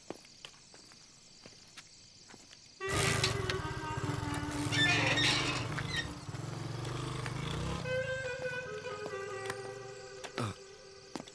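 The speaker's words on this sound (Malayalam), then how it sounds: "ബൈക്ക് ഞാനൊന്ന് എടുക്കുവാണേ" A motorcycle engine catches abruptly and settles into a loud, steady running drone close by, easing slightly as it moves off, after a quiet stretch with faint clicks.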